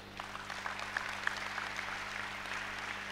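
A church congregation claps in acclaim during a sermon, a dense burst of many hands applauding steadily for about three seconds, moderately close, with no clear speech over it.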